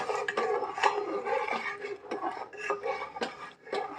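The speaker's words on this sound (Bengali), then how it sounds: "আর এই যে তেজপাতাগুলো আগে দিয়ে নিই এক এক করে, দিয়ে একটু ভালো করে নাড়িয়ে নেব" Bay leaves being stirred into milk in a metal pot, with close, repeated clinks and scrapes of a spoon against the pot in an uneven rhythm.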